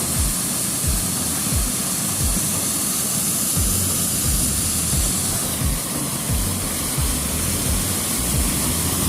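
A clear, bluish river in the ranch country of Yaroa, Puerto Plata, rushes in a steady, dense broadband wash, constant and fairly close, with no voices.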